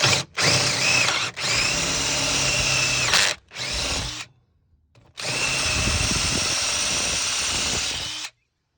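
A power drill fitted with a 1/2 inch bit bores a hole for a dog kennel build, whining loudly in long sustained bursts with brief pauses and one longer stop between runs.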